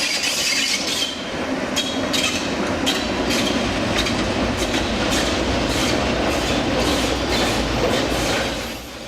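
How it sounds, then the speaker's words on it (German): Museum steam train of a heritage railway pulled by an Elna standard locomotive on a 16 km line through the Wiesent valley to Beringersmühle, with a steady loud rumble and rhythmic clickety-clack of wagon wheels passing close by throughout. "Am Himmelfahrtstag 2019 waren wieder einmal Dampfzüge des Museumsbahnvereins unterwegs."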